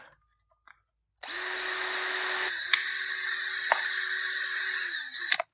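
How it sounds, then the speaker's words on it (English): A cordless drill whirs steadily for about four seconds, close up, its pitch shifting slightly as the bit bores through a thin plastic water bottle, with a few faint clicks before starting. "Just drilling holes into that same water bottle."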